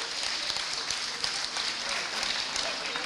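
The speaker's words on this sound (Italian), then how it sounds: "Bravi, un applauso grande." Applause from an audience at an Italian community celebration, a steady dense wash of many hands clapping that fills the whole stretch without pause.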